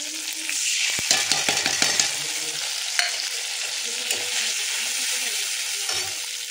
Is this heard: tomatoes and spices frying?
yes